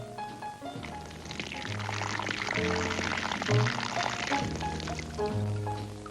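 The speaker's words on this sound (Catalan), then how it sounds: "Li obriré l'aixeta" Water pouring steadily from an opened tap in a 1976 Charlie Brown birthday special, a continuous splashing rush lasting several seconds under tonal background music.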